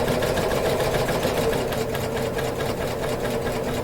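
A sewing machine runs steadily, stitching the side seams of imitation faux leather pants, with a continuous close mechanical whir and no pauses.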